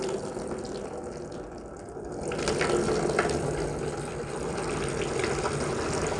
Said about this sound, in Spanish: yo voy a regar y miren la cantidad de agua que sale por debajo